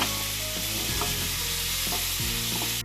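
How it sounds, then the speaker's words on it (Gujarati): Vegetables mixed and fried on a flat tawa for street-style tawa pulao, a loud continuous sizzle with spatula scrapes and stirring, close up with no talking. "તો આવી રીતે આપણે મિક્સ કરી દેવાના છે શાકભાજીને"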